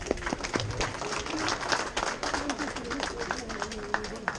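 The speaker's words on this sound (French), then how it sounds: "Applaudissez-la, Lucienne." An audience at the inauguration of a local office in La Seyne applauds a woman named Lucienne: scattered, moderately loud clapping running throughout, with voices talking over it.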